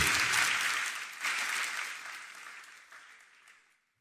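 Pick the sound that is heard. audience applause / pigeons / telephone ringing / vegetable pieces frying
audience applause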